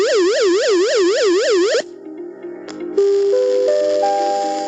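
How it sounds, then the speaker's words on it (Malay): A loud wailing flood warning danger siren rises and falls in steady cycles, then cuts off; a lower electronic tone follows and steps upward in pitch. "Kedua, bunyi siren bahaya."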